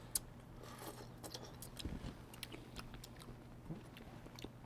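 Someone chews a crunchy sauerkraut dish with a crisp streusel-like topping, giving faint, close, irregular crunches and bites, with a low steady hum in the background.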